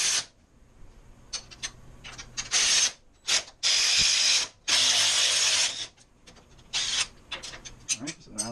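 A hand ratchet clicks in repeated bursts of varying length while loosening the front differential bolts on a Honda 500 ATV, close and fairly loud with brief quiet gaps between strokes.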